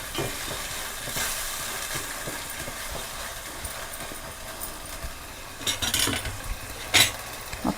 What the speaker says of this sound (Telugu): అది పచ్చివాసన పోయేదాకా వేయించుకోవాలి